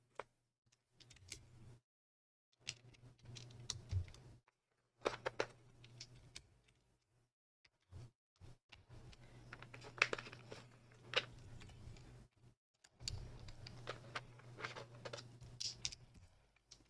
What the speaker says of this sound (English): Let me put on keycaps first.